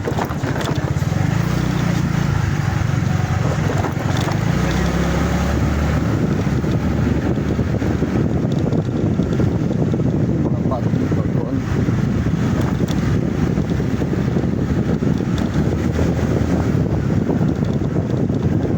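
A motorboat engine runs on open water off Zamboanga City during a fishing trip, a steady loud rumble mixed with heavy wind buffeting that lasts the whole time.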